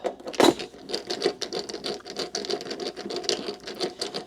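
Fast, faint mechanical clicking and ratcheting while screws are removed from a Motorola XPR 8400 repeater in a shop, a steady patter of small tool noise.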